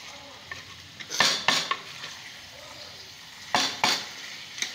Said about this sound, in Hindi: अब भूनती हूँ अच्छी तरह